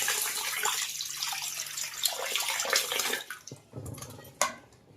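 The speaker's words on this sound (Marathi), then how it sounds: "आता मी ह्याच्यात पाणी ठेवते आणि चार ते पाच तासासाठी भिजायला ठेवते" Water is poured over washed lentils in a bowl to soak them, making a close, gushing stream that splashes and gurgles, then breaks into a few separate splashes and drips near the end.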